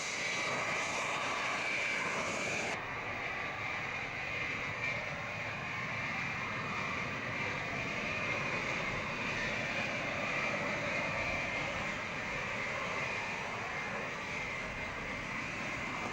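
A Victor K2 jet aircraft taxis in, its steady broadband engine roar holding loud and constant throughout with a high whine on top.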